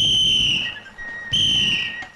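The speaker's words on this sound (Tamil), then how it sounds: "கையில இருக்கிற விசில வாயில வச்சு அடிச்சுட்டு இறங்கி இருக்க மாட்டான்?" A bus conductor's whistle blows two shrill, sustained blasts close by, each about a second long with a brief gap between, with no voices over it.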